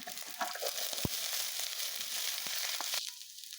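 Kharkol (chaam) plant stalks fry in a pan with browned onions, a steady close sizzle with a sharp clack from a utensil or stir near the start, cutting down abruptly toward the end.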